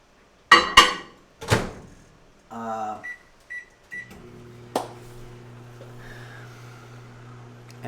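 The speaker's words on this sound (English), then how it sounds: "We're going to put these in the microwave for 30 seconds." Microwave oven running while melting green candy melts for Frankenstein-themed cupcakes, a steady low hum with faint higher tones after a few clicks, beeps and clatters near the start.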